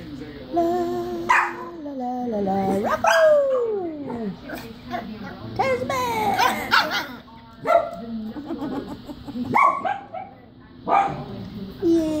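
A puppy barks, howls and whimpers in a string of high yips and rising whines, close and lively, with people talking in the background between calls.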